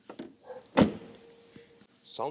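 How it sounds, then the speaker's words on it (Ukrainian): A door on a new French luxury flagship car swings shut with one solid, heavy thunk near the middle, while a voice talks briefly before and after it. "Звук закривання дверей."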